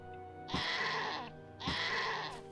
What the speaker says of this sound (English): That goat sound, holy shit.